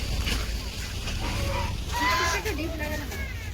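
A duck or goose calling in a series of nasal, wavering honks and quacks, fairly close, over a steady background hum with occasional voices nearby.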